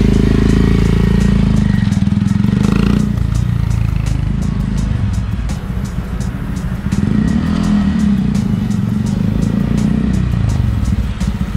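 A Honda Monkey motorcycle runs close by, its small engine giving a loud, steady buzzing drone that dips slightly mid-ride before picking back up, with rattly clatter over the rumble.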